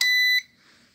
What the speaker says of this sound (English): this beeping sound is very annoying when I am sleeping